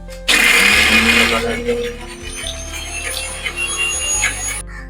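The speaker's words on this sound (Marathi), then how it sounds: "ह्याचं वाटण करून घ्यायचं आहे कारण तेव्हाच ती ग्रेव्ही तयार होईल" A kitchen mixer grinder whirs loudly as it grinds masala into a paste for a fenugreek gravy. It starts abruptly, runs close for about four seconds with shifting pitch, then cuts off.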